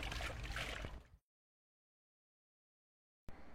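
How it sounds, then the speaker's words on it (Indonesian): A grimy cleaning cloth is rinsed with clean water, a second of close, sloshing splashes that cuts to silence before the watery sound briefly returns. "Ini tinggal aku lanjut bersihin aja, disiram-siram pakai air bersih."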